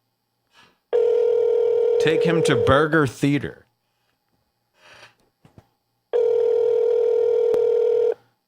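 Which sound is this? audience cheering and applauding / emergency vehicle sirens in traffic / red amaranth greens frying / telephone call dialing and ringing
telephone call dialing and ringing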